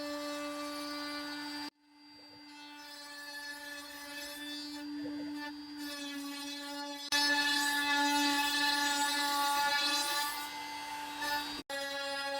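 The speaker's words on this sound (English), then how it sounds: "While the CNC is doing his job" CNC machine carving a 3D design in wood, a steady whining, humming drone with the cutter's grinding rising and falling, briefly cutting out at moments before resuming.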